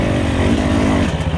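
A Husqvarna TE300i enduro motorcycle ridden on jungle singletrack, its engine a loud, close, continuous two-stroke drone with a slight dip and rise in revs.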